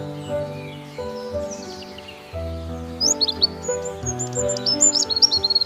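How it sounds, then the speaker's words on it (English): A nightingale sings, a bright string of rapid chirps and whistled trills over a sustained tonal backdrop, becoming busier and more insistent toward the end. "Nightingale."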